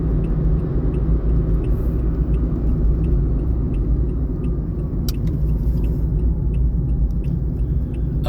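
A car drives along a road with a steady, dense low rumble of engine and tire noise heard from inside, loud and continuous, with a few faint clicks and no talking.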